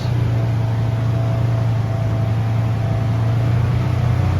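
A Polaris engine runs at high RPM, around 4,000, in below-zero cold, giving a steady, loud, unbroken drone with a constant low hum and no voices.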